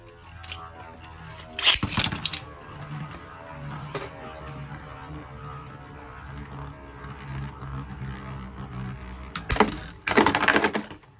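Beyblade Burst spinning tops launched into a stadium, with two sharp clattering bursts of launch and collision framing a steady whirring spin and faint rattling, close, with no talking.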